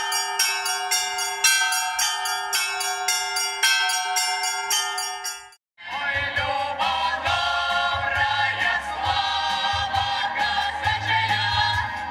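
Church bells ring out in a bell concert at an Orthodox Cossack festival, first a bright, rhythmic peal of struck bells, then after a brief pause a fuller, denser clangor with deep tolling bells underneath.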